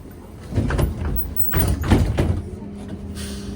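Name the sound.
trolleybus BKM-321 doors closing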